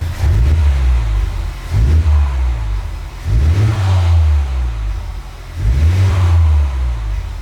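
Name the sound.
Honda Civic Type R engine revving at idle, stock exhaust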